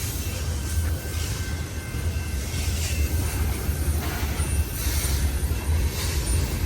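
A very long freight train rolls slowly past close by, a continuous loud low rumble of wheels on rails with intermittent high metallic squeals of the wheels, steady throughout and without talking.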